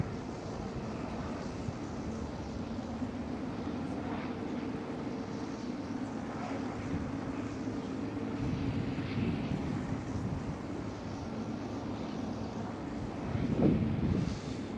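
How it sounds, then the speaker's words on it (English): A Boeing 747-400 at Schiphol Amsterdam produces a steady, distant jet rumble that holds constant throughout, with faint wind noise and no voices. "(747-400). A beauty beyond compare."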